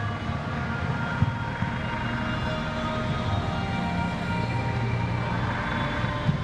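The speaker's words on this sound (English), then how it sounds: "You see they've gone into the hover mode with the helicopter." A US Coast Guard MH-65 search and rescue helicopter hovers at an airshow in Atlantic City, with a steady, loud droning roar that holds constant throughout, with no voices.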